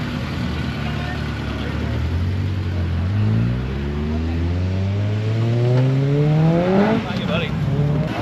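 A Honda Civic engine revs as the car moves off at a car show, its pitch climbing in repeated rising sweeps that grow louder near the end, with people chatting nearby.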